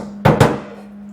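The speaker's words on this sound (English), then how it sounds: "Got my handy dandy body hammer here." A body hammer strikes sheet metal twice in quick succession during floor pan and cab corner rust repair, close and sharp hits over a steady low hum.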